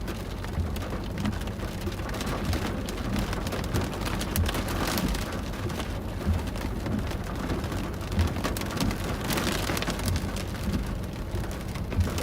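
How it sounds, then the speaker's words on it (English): Heavy rain pours steadily during a severe thunderstorm in Colorado Springs, a dense hiss of drops drumming on surfaces, with faint rumbles of thunder swelling now and then beneath the downpour. "The rainfall rate is 2 to 3 inches per hour."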